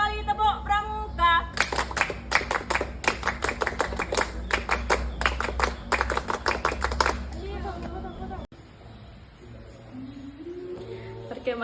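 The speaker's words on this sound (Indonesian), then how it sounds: "2 kali tepuk Pramuka." A group of Scouts at a Pramuka camp performs the rhythmic Scout clap, a sharp, loud patterned series of unison claps under chanting voices, ending abruptly, followed by quieter talk and background sounds.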